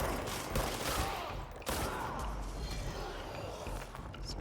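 Rapid bursts of gunfire and sharp shots from a tactical shooter video game play continuously, dense and loud, with footsteps mixed in and voices talking over the action.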